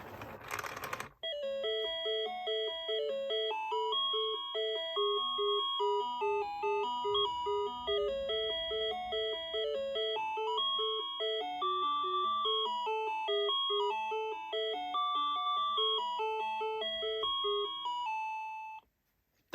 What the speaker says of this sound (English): The next one makes this thing sound like a slot machine